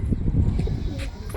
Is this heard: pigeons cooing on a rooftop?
yes